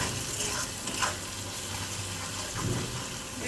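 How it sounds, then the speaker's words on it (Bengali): Spiced food frying in a pan with chili powder and a little salt, a steady close sizzle with occasional stirring scrapes, no voices. "বেশ সুন্দর করে ভাজা ভাজা করে নেব"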